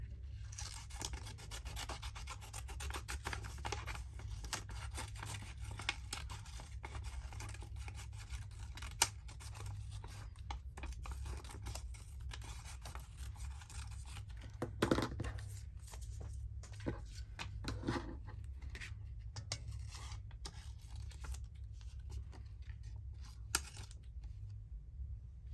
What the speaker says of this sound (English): Let me just cut this out.